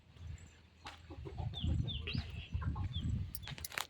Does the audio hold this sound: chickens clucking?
yes